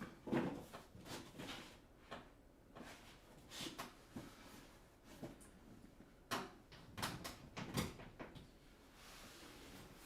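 Drawer in a home being pulled open and rummaged through, with repeated clatters and knocks of small items shifting, close and fairly quiet, no talking.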